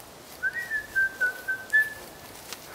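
A person whistles a short, thin, steady tune outdoors while clearing land and hauling logs, with about six clear notes at moderate distance over quiet background hiss.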